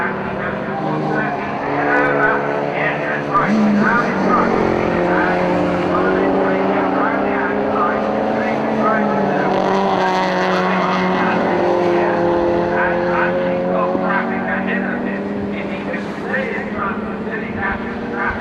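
Ford Fiesta and Sierra saloon cars racing, engines roaring and droning with rising and falling pitch as they pass, loud and continuous under an excited commentator's voice.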